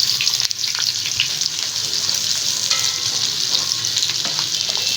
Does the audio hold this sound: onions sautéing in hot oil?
yes